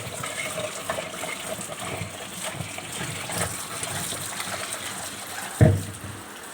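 Chopped giloy vine stems are washed in water, a faint, continuous swishing and trickling with one brief louder splash or knock near the end.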